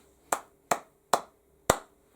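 Four sharp, separate hand claps in applause for NHS workers, close and evenly spaced with short gaps and no voices.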